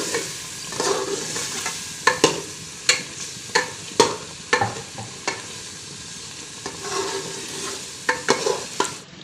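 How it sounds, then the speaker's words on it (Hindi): Potatoes fry in masala with a little water while a spoon stirs them in the pan. A steady sizzle runs throughout, broken by repeated sharp scraping knocks of the spoon, and no one talks. "और इसमें भूनेंगे इसको।"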